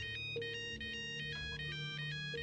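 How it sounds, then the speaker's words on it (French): A phone ringtone plays a repeating melodic electronic pattern, steady and continuous from start to finish at moderate loudness, with no voices. "Mon téléphone se mit à sonner."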